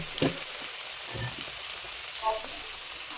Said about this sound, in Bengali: কাঁচা পেঁয়াজ কুচি, টমেটো কুচি সব দিয়ে সুন্দর করে এটাকে আমি একটু মিশিয়ে নিচ্ছি, নেড়ে নিচ্ছি।